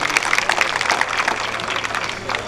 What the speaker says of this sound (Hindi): जोरदार तालियों के बीच